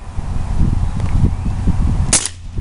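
A Legends Cowboy lever-action CO2 BB rifle fires one sharp, close pop near the end, after a stretch of low rumbling handling noise.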